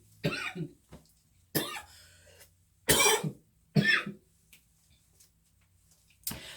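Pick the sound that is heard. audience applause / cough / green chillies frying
cough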